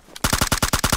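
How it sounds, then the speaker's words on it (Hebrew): Rapid automatic gunfire in PUBG Mobile, about nine sharp shots in quick even succession after a brief quieter lead-in, loud and close. "היה מפה יריות משהו, שמעתי."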